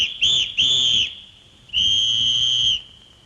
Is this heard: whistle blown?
yes